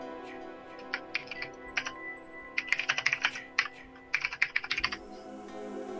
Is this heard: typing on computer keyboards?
yes